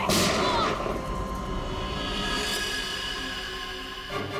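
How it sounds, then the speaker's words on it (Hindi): A gunshot in a Hindi crime drama, one sharp loud crack at the start that rings and decays slowly over several seconds, with a fainter thump near the end. "उसके बाद दूसरी गोली चली"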